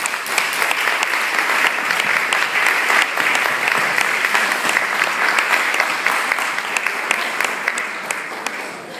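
Wedding guests applaud at a best man speech, a dense, steady wash of many hands clapping that fills the whole stretch at close range, tapering slightly near the end.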